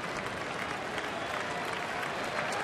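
A baseball stadium crowd at a Diamondbacks–Brewers night game applauds the Milwaukee pitcher, a dense, steady wash of clapping from a distant mass of fans with no breaks.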